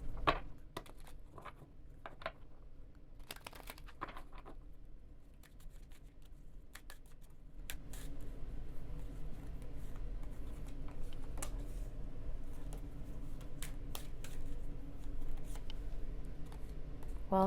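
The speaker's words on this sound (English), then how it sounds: "I'm going to shuffle the cards in silence" Thoth tarot cards are shuffled quietly in a hushed room, a run of soft riffling and tapping with scattered crisp flicks and no talking.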